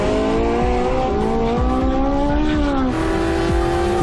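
Porsche 918 Spyder V8 hybrid supercar driving in Sport Hybrid mode, a loud close engine climbing through several gear changes, pitch rising then dropping with each shift, continuous and unbroken.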